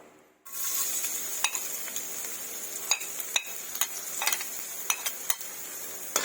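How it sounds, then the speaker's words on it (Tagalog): Garlic sautés in a pan for arroz valenciana alongside chicken, liver and gizzard, giving a steady close sizzle broken by sharp scraping stirs and clicks of a utensil, with no voices. "Kapula-kulain muna natin ang bawang."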